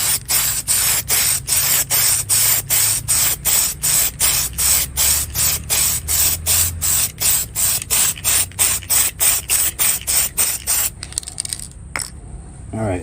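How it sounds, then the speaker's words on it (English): An aerosol can sprays a Mini Cooper scale model's body parts in a rapid, even series of about thirty short hissing bursts, close and loud, ending in a few softer puffs. "we may have to spray them again"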